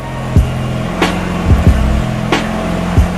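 A loud turbocharged Honda Integra DC2 engine idles with a rumbling straight-pipe exhaust, punctuated by several sharp throttle blips and pops, close by.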